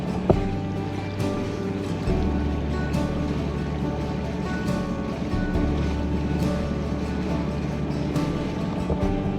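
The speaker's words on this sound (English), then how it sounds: "Here's a speedboat." Speedboat passing on the sea off Indonesia, a steady low motor drone under wind and waves, heard from a sailboat at anchor, moderately loud and continuous.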